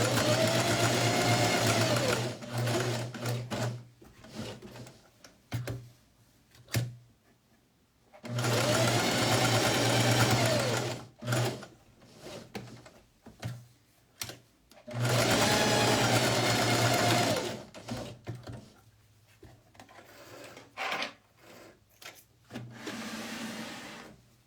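A sewing machine stitching a pocket runs in three close, loud bursts of several seconds each, a fast rhythmic whirring hum, separated by quieter pauses with fabric handling and small clicks.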